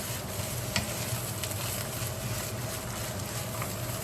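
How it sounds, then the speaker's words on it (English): Fried rice being stirred in a hot pan, a continuous sizzle with scraping stirs and a few light clinks, steady and close with no talking. "Fried rice, you want to keep stirring."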